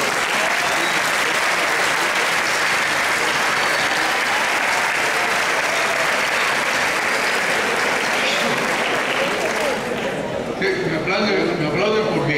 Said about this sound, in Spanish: me aplauden por viejito.